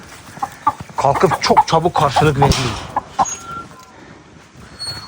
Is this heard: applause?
no